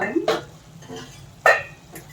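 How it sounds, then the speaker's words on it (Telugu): A spoon stirs minced mutton curry in a pan, with a few distinct metallic scrapes and clinks against the pan between quieter stretches of faint background. "మధ్య మధ్యలో ఇట్లా తిప్పుకోవాలండి కంపల్సరీ"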